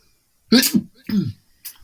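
A sharp, loud sneeze burst followed by a second shorter explosive expulsion, close to the listener, then a faint breathy sound after a pause.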